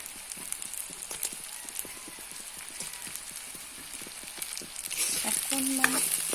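Fried fish pieces dropped into a hot pan for an Assamese sour fish curry, where a little water was just added; steady crackling sizzle and stirring clatter that swell louder near the end, with no talk.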